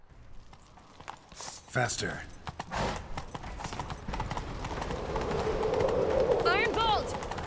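Hooves of a horse pound in quick, steady clip-clop as it gallops through a chase in The Witcher 3: Wild Hunt, with wind in the background and voices calling out briefly over the riding.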